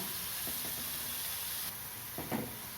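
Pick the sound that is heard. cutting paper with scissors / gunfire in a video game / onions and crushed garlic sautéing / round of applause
onions and crushed garlic sautéing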